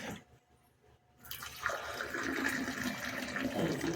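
Hot water poured into a glass, starting after a quiet moment and building into a steady, close trickling stream that keeps running to the end.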